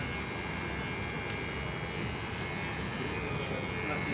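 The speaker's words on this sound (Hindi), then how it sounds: "और ये देखिए, ऐसे आपको ट्रिमर चलानी है।" An electric hair trimmer set to 0.5 for a zero cut buzzes with a steady, unbroken hum, running close and constant throughout.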